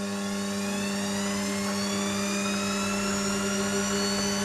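A Warco WM180 metal lathe runs forward with its motor ramping up, giving a steady high whine with rising tonal sweeps over a constant hum, close and unbroken.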